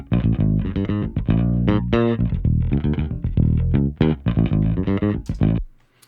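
A mixed electric bass track plays a busy, punchy line of plucked notes, loud and upfront with some grit, then stops abruptly.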